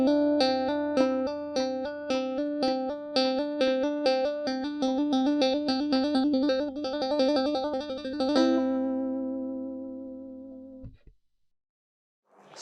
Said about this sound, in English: you can try to do these two techniques in quick succession, which will sound like this.